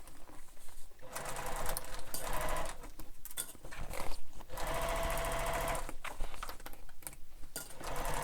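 A sewing machine stitches up the side of a bag in long, fast runs broken by brief pauses, close and fairly loud.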